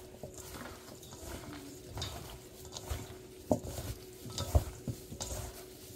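Chicken wings being mixed in cornstarch and a little flour, soft shuffling and rustling with a few sharper knocks against the bowl, close and moderately quiet, no talking.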